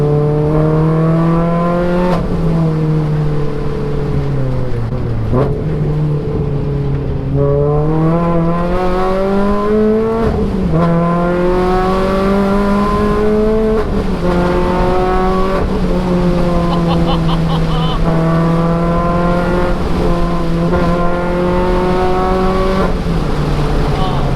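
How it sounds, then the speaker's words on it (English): A road-legal Renault Clio rally car engine revving loudly and continuously, pitch rising and falling through gear changes, heard from close up inside the car. "It sounds so good, it literally sounds like a rally car."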